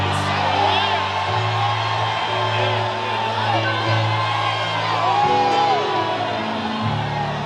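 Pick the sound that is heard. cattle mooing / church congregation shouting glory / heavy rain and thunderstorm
church congregation shouting glory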